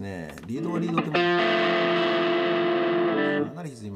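A heavily distorted electric guitar lead tone from a BOSS ME-25 multi-effects unit: a few quick notes, then one long sustained note ringing thick and loud for over two seconds before fading into another short phrase.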